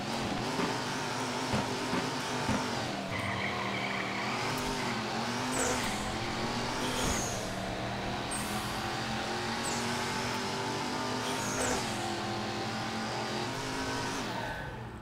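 A car engine in the video game Super Mecha Champions revs hard and continuously, climbing and dropping in pitch through repeated gear shifts, with occasional tire squeals, loud and steady throughout with no talk.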